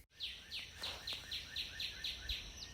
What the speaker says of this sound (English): We will drag the bird SFX onto our timeline